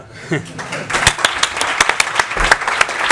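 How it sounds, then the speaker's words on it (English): A scattering of claps from reporters greets a manager at his final Manchester City press conference, short and uneven, mixed with voices talking. "Now you can clapping to me."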